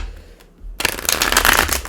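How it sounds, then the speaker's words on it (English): A deck of tarot cards is shuffled close up, a quick riffle and then a loud, sustained burst of flapping, rustling cards. "One more good shuffle."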